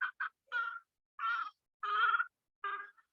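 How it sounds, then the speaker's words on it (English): Backyard chicken calling in a series of six short, throaty bursts, fairly faint and set against silence, the notes spaced irregularly across a few seconds. "That's one of my chickens."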